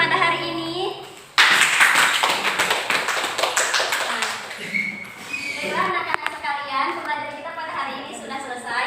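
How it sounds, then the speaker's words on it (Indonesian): A classroom bursts into applause for group 1 during an Islamic inheritance law lesson: a sudden loud patter of many clapping hands that fades as children's voices and chatter take over. "Beri aplaus kepada kelompok 1"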